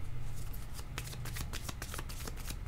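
Playing cards are shuffled and drawn by hand, a dense close riffle of rapid papery flicks and snaps running continuously for a few seconds.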